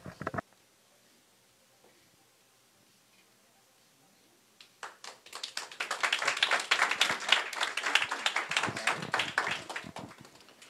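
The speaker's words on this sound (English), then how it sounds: "Another round of applause for Mark and Ben and Kendra Wolf both." Audience applause after a pitch presentation by entrepreneurs, starting with a few scattered claps after near silence and then swelling into steady, moderately loud clapping from a modest crowd.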